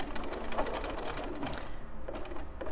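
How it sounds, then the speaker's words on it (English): A sewing machine runs steadily, back stitching through the binding at the edge of a quilt, its needle mechanism whirring with a fast, even mechanical chatter, close and fairly quiet throughout. "I'll just back stitch, or you can stitch right off the"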